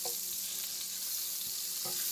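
Butter melting and moved around a hot pan for Christmas Who hash, a steady bright sizzle with faint scrapes of the utensil, close and without any talking.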